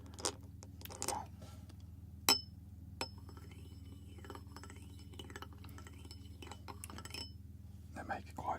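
Jelly beans tapping and clinking against glass in several quiet, scattered chinks and taps, intimate and close, with soft low background hum.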